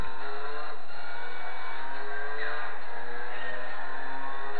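A race car engine in Gran Turismo 4 roars continuously at high revs, loud and close, with a faint tire squeal along the way.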